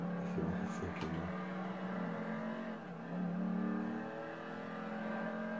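A car in the GTA video game, its engine drone holding a steady pitch then climbing in a rev before easing off, with a brief clattering bump early on, fairly quiet.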